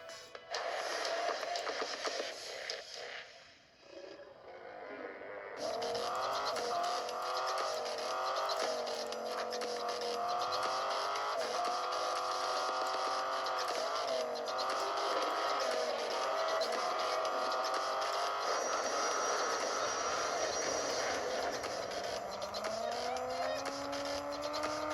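Hot Wheels Unleashed racing video game plays: toy-car engines whine and rise in pitch continuously with tire squeals and game effects, steady and loud, no talk.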